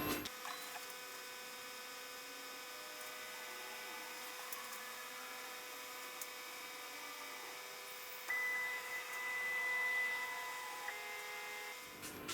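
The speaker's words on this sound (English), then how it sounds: "we now select to return to home, or go and find the home switches" A QueenAnt CNC router homing toward its limit switches gives a steady electrical motor whine over a constant hum, with a shift to a higher tone partway through before it stops.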